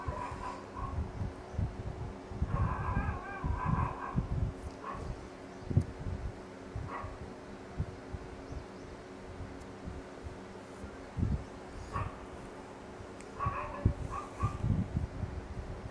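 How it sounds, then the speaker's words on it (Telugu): A dog barks and yelps in scattered short bursts, some close and sharp, others fainter, with whimpers in between over a low steady hum. "కుక్క అరుస్తుంది."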